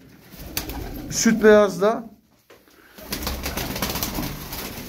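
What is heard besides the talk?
pigeons cooing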